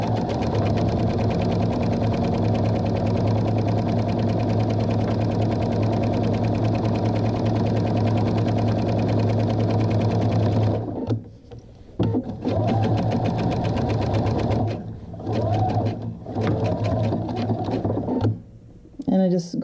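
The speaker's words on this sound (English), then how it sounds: "And I just go back over my stitching, so I don't need to back stitch if I don't want to." A sewing machine runs fast and steady while stitching a leather wrist strap, a loud continuous mechanical whir for about ten seconds, then several short start-stop bursts as the seam is gone back over.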